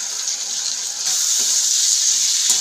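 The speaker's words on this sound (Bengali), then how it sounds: "এখন যে কাজু, পোস্ত, কাঁচা লঙ্কার পেস্টটা সেটা দিয়ে দিচ্ছি।" Potatoes frying in a pan with cashew, poppy seed and green chilli paste, a steady loud sizzle that swells slightly after a second, with a couple of faint utensil taps.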